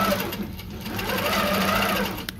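A longarm quilting machine stitches an edge-to-edge design across a quilt, giving a steady, continuous mechanical hum with a rapid needle rhythm that is close and fairly loud throughout.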